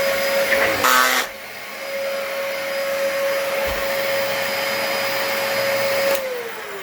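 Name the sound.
vacuum cleaner making abnormal noise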